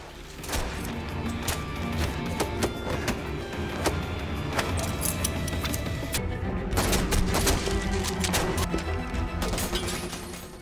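Gunfire in an action film scene on a building rooftop during a hostage standoff, a dense loud barrage of repeated shots over a rumbling soundtrack, with no speech.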